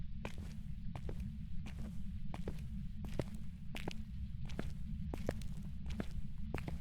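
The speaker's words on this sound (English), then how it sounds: "I can hear like very bassy footsteps" Heavy, bassy ghost footsteps in the Phasmophobia horror video game thud at a regular walking pace, fairly faint and low, with no talk over them.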